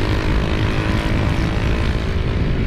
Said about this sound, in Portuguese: Curtindo a brisa do escape novo.